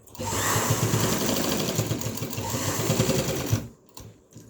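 An electric sewing machine stitches a zip onto a shirt with a steady, close, rapid whirring and needle clatter for several seconds before stopping, leaving a quiet tail.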